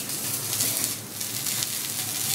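Channa dal vegetable cutlets fry in a pan with a little oil, giving a steady, even sizzle and crackle that carries on throughout with no voices.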